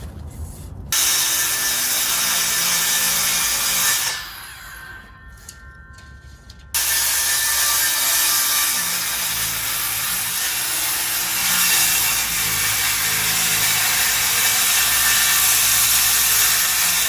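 Power saw cutting through wood floorboard stock for a 53-foot big rig trailer floor, a loud steady rasping cut that drops out briefly midway and then resumes close by for the rest of the clip, with no talk.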